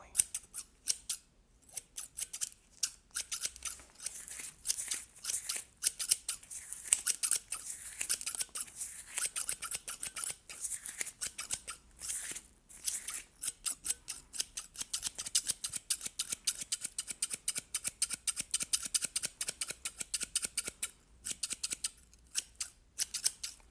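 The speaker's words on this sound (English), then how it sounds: "I will gradually make my way to the left side as well to make sure that I am cutting your hair evenly" Close, crisp scissor snips cut hair during a traditional haircut in an ASMR roleplay, arriving in quick rhythmic runs of many cuts separated by short pauses, quiet and intimate with no talking.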